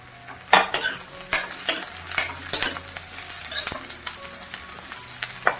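Grated coconut roasting in a pan with garlic and ginger for a mixed sprouts curry, heard as steady sizzling broken by repeated scraping stirs and clinks of a spoon on the pan, close up with no talk.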